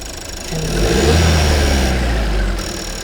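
A 1.5 TSI petrol car engine runs steadily close by, with a low rumble and faint characteristic rhythmic ticking; the pitch rises slightly midway and then settles back.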